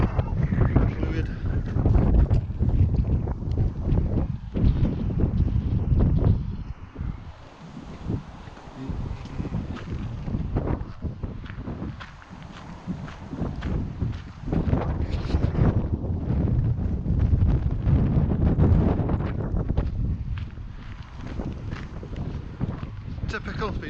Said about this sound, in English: I'll wait till we get out the wind.